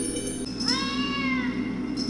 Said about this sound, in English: Oh, cat.